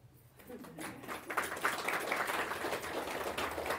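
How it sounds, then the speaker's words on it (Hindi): Audience applause in a lecture hall at a spiritual class, clapping that builds from quiet after a brief pause into sustained dense hand claps from many people. "ताली तो बजाओ।"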